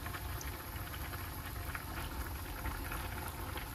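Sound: pork browning in oil in a pan

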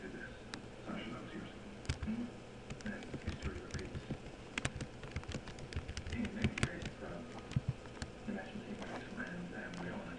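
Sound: typing on a computer keyboard

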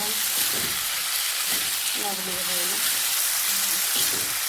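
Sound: eggplant frying dry in a pan

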